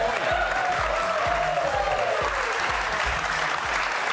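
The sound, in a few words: studio audience applause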